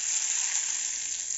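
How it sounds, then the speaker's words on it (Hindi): Cumin, curry leaves, red chilies and green chili sizzle in hot oil for a tadka for mash dal, a steady bright frying hiss throughout with no voices. "अब हम इसका तड़का लगाएंगे और ये लगा देंगे हम दाल"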